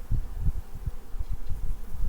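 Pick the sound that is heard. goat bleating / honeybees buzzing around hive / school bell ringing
honeybees buzzing around hive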